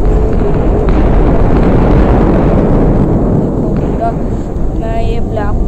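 In the Solar Smash space game, a black hole destroys Earth with a loud, continuous roaring rumble that fills the whole stretch, and a brief voice is heard near the end.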